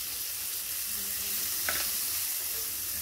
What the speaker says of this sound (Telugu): ఇవి బ్రౌన్ కలర్ వచ్చేటంత వరకు అలా వేగాలి.